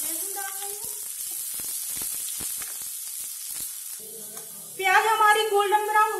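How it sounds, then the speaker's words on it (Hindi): Onion and garlic go into oil with lightly browned spices in a pan for a potato and capsicum curry. A crackling sizzle with spitting pops plays, joined by tonal, voice-like sounds at the start and near the end. "अब मैं इसमें प्याज लहसुन डाल रही हूँ।"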